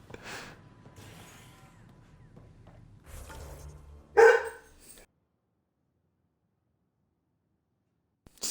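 A dog barks a few times in the Mass Effect Andromeda video game, short sharp barks spaced apart with one louder bark near the middle, then near silence.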